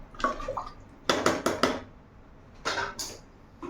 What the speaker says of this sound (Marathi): त्याच्यामध्ये पाणी टाकून मस्त याला शिजवून घेते